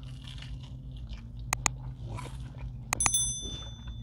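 Broccoli cheddar tater tots from Sonic being bitten and chewed up close, with soft crunchy bites and moist chewing, plus a few sharp metallic clicks and faint background noise.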